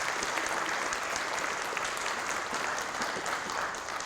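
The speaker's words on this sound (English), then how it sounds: "Let's have one final round of applause for our STAR teachers and our STAR students" An audience at an awards ceremony for star teachers and students applauds in a steady, dense wash of clapping that holds at even loudness throughout, with no voices heard over it.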